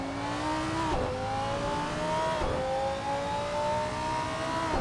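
A race car engine in the Assetto Corsa racing game, a steady high revving whine that rises through the gears with brief dips at each shift, loud and continuous with faint tire noise underneath.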